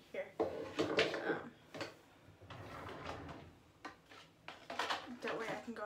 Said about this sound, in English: I'm reorganizing my drawers all right here